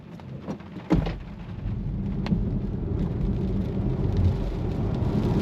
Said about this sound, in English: Let's just come to a dead stop and then bury the throttle just to see how the traction systems work.